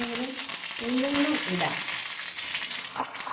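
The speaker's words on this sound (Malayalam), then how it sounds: "നമുക്കിതിലേക്ക് രണ്ട് ചുവന്ന മുളക് ഇടാം കറിവേപ്പില" Two dried red chillies and curry leaves dropped into hot oil in a pan, hissing in a loud, steady sizzle with a brief spatter, while a person talks over the frying.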